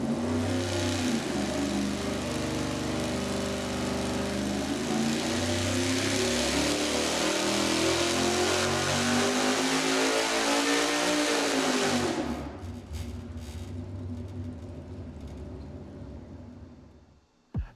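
A V8 engine with lightweight rotating parts screams through a fast full-throttle dyno pull, climbing steadily in pitch for about twelve seconds before the revs drop off and it settles back toward idle, loud and close with no talking.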